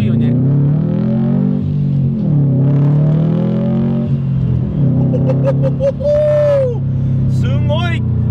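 Loud Subaru car accelerating hard on a drive, a deep steady engine roar rising and falling in pitch through the gears, heard from inside with people talking over it.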